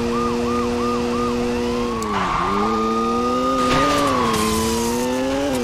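A police car siren in the Saints Row 2 video game wails loud and close, starting with rapid yelps and then sliding into a long rising-and-falling wail, with no talking.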